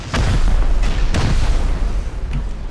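Rocket launcher blasts during a base raid in Rust: a few heavy booming explosions, loud and close, with a continuous deep rumble between impacts and no speech.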